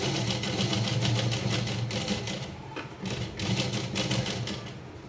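Sewing machine stitching cloth, a close, steady rapid clatter of the needle running continuously with a brief slowdown partway through before resuming.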